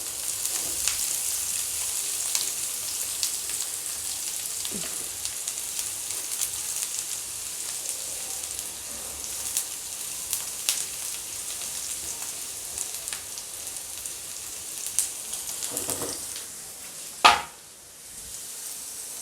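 Green chili and garlic paste frying in a pan for lasuni methi: a steady, soft sizzle with faint crackles throughout, a few sharp clicks of a spoon stirring near the end.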